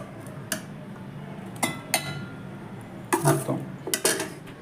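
Dal being tipped into a mixer jar in a home kitchen, a series of sharp metallic and glassy clinks and knocks at irregular intervals, close and clear, with no talking.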